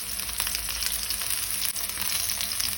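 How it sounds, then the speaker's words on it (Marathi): Mustard seeds and green chillies sizzling in hot oil for a tempering, a continuous close crackling hiss with tiny popping bursts, no voices. "सासवां तडतडली तशी तातूंत हांव मिरसांगो घालतां।"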